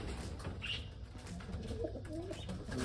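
Pigeons coo softly in a loft beside an open breeding cage. Their low, rolling calls come now and then over faint rustling and shuffling, with no voices.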